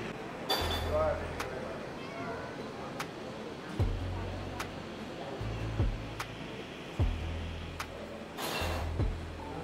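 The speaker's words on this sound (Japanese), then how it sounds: "どっかから猫の鳴き声がしたぞ。" A cat meows a few times in Kathmandu, Nepal, faint and somewhat distant, while people talk over a steady outdoor background.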